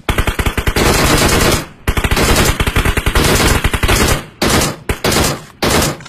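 Gunfire in the mobile game PUBG Mobile: loud, close bursts of rapid automatic shots in several strings separated by short pauses, with no talk over them.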